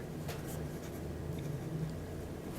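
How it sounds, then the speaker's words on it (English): A Kaweco Sport Skyline fountain pen writes quickly on paper, making soft, close scratching strokes over quiet background noise. "Let me see if I can write real quick."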